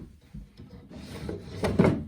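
A desk drawer sliding open in an escape room video game, a soft wooden rubbing scrape that grows louder and ends with a fuller slide near the close.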